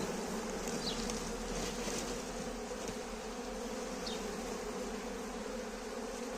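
A honeybee swarm that arrived on its own hums in a steady, dense buzz, with occasional single bees passing close by, and no voices present.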